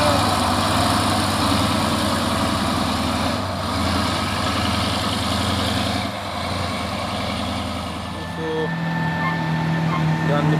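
A Fuso truck idles with an Isotec trailer hitched behind, a steady low diesel rumble running throughout, close and loud, with voices talking over it.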